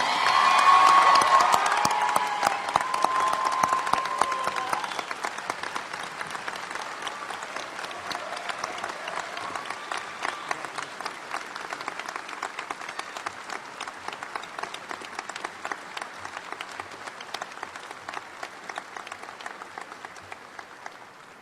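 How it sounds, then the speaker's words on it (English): A commencement crowd at UVa-Wise applauds new U.S. Army second lieutenants, loud dense clapping with some cheering that peaks in the first few seconds, then thins gradually into scattered, fading claps over the long tail. "Final round of applause for the newest second lieutenants in the United States Army"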